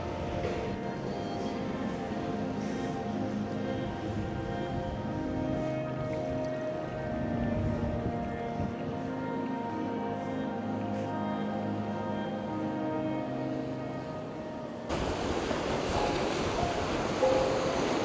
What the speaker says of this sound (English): It's a bit windy today, but very nice and warm.